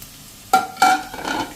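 Coarse crushed bajra rotla crumbs stirred into raisins and seasoning in a pan over a slow flame, two or three brief scraping stirs over a faint sizzle.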